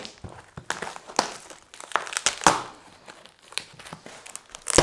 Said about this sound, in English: I got the good kitchen scissors out because you know how people like to tape up boxes.